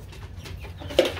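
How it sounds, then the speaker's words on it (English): Chickens clucking excitedly close by, a short burst of agitated clucks and squawks rising to one louder call near the end. "The chickens are going crazy."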